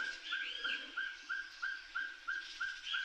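Bright, repeated bird chirps sound in a steady rhythm, roughly three per second, each a short whistled note with softer trills above it, fairly close and clear over a faint hum.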